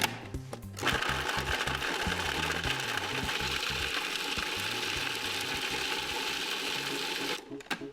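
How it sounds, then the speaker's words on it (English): Parmesan cheese being grated in a food processor, a loud, steady mechanical whir and rattle that runs for about seven seconds after a short start, then cuts off, close up and without talk. "This is really fast Parmesan cheese, right into the food processor."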